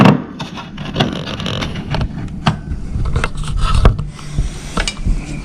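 Plastic door trim panel on a 2007 van's passenger door being pried loose with a tool, giving repeated close scraping, rubbing and creaking with sharp clicks and snaps scattered through, steady and fairly loud, with no talking.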